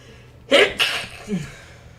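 A single loud, close sneeze with a sharp two-part burst, followed by a faint short vocal sound afterward.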